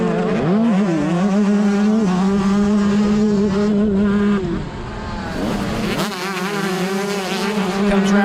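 Several 125cc motocross bikes race at Long Lane, their high-pitched two-stroke engines screaming and revving close by, pitch rising and falling through gear changes, with a brief dip before more bikes howl past loudly.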